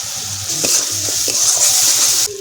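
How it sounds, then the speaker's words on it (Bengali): Ground spices, including Kashmiri chili and cumin powder with salt, sauté in oil in a pan with a steady bright sizzle and a few close stirring scrapes and clicks, with no talk, before the sound cuts off. "সব মশলা ভালো করে কষিয়ে নিয়েছি। দেখুন মশলা দিয়ে তেল ছেড়ে দিয়েছে।"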